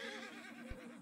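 A newly found horse breed in Red Dead Redemption 2 lets out a wavering whinny, close and fairly soft, with a brief thud partway through.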